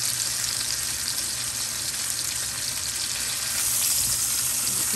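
Steak frying in a hot pan, a loud steady dense sizzle that holds without pause, close up.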